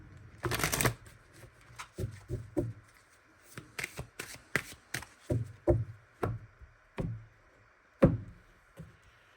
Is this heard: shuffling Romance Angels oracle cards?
yes